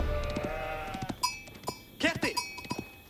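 Sheep bleat several times in quick succession in the strategy game Age of Empires IV, wavering cries of moderate loudness heard close with game sounds and faint tones between them.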